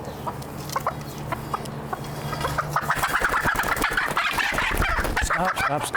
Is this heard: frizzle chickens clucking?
yes